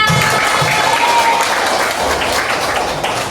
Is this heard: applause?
yes